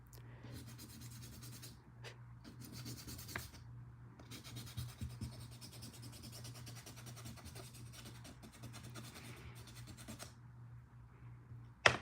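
Small scraping and filing strokes on plastic Gunpla model kit parts, removing nub marks, come as soft, steady rasping rubs at close range with brief pauses and a faint steady hum underneath.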